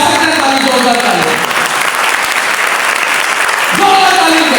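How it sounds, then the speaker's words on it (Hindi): Loud, sustained applause from a church congregation fills the whole stretch as a dense, steady roar of clapping, with voices mixed in at the start and swelling again near the end. "जोरदार ताली करें।"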